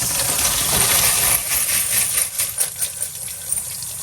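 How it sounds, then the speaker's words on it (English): A rush of dirty copper pennies tumbling and clattering into a sieve in a sink under running water, dense at first, then thinning into scattered clinks. "let's pour out these filthy pennies."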